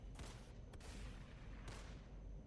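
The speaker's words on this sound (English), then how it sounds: "You hear gunfire echoing down the hallway" Dense bursts of gunfire in a Classic Traveller tabletop role-playing session ring out with a booming, reverberant tail, echoing down a hallway.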